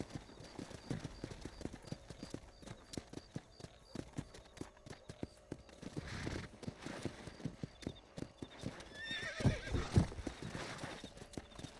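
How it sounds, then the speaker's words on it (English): A horse in the Red Dead Redemption video game trots with steady clip-clop hoofbeats, then gives a loud, close neigh near the end, with no speech over it. "I want to dismount this stupid horse"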